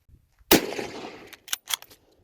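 A single sharp, close gunshot from a bolt-action military surplus rifle at a range, followed by a short ringing decay and a few quieter metallic clicks and knocks.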